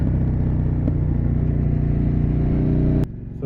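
A Suzuki SV650 motorcycle with its dB killer baffle removed revs loudly and steadily nearby, a deep rumbling exhaust note held for about three seconds before dropping off abruptly, then picking up again.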